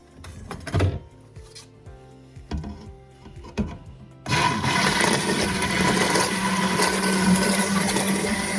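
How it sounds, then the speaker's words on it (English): Stick blender whirring steadily through soap batter for a farmhouse egg soap, a loud continuous buzz that kicks in after a few seconds of quiet knocks and handling noises and runs to the end. "I'm actually going to grab my stick blender and give it a couple kicks with that"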